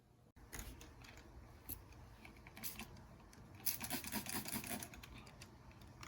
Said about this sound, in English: Move on to wiping down the side case, or the side panel